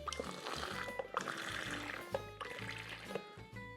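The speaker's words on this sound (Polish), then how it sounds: "bierzemy sobie wodę z lodem, tu mam w termosie przygotowaną" Ice water poured from a thermos into a gourd of yerba mate for cold tereré, a close, steady liquid trickle and splash lasting a few seconds with faint clinks, no talking.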